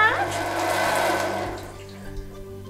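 A Brondell Swash SE400 bidet toilet seat runs its pulsing massage spray with a steady, close hiss of water. The spray fades out after about a second and a half, leaving quiet room tone.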